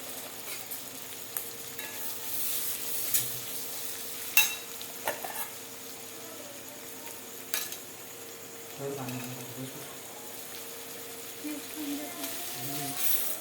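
A chilli and egg bhurji mixture fries softly in a pan, with intermittent utensil clicks and scrapes as it is stirred over a low background hiss, while a voice talks faintly at times.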